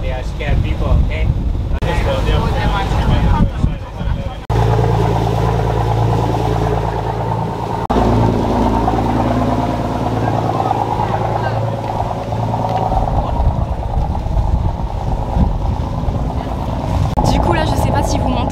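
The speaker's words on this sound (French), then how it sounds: "je suis en haut du bateau et on se dirige vers la première île" A boat engine drones steadily throughout on a trip to an island in Thailand, a low continuous rumble with wind and people talking over it.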